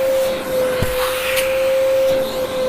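Kiwi KCC 4325 carpet cleaner suctioning paint from an armchair, a steady loud droning whine with a constant motor tone and brief rustling bursts of fabric contact, no talking.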